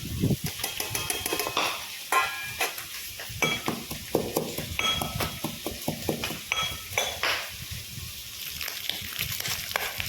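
Pork pieces frying in their own fat in a pan, mashed and pressed with a utensil, giving repeated close scraping, knocking and clinking strokes over a faint sizzle, with no talking.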